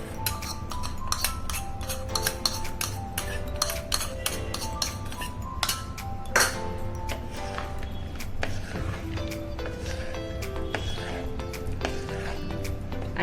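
Thai mango salad being mixed with its dressing, producing a busy run of clinks, taps and light clatter against a bowl, irregular and fairly close, with a low background hum throughout.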